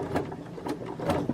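A sewing machine stitches a bodice underarm seam with the presser foot down, giving soft, quiet mechanical whirring that pulses in short rhythmic bursts, close by.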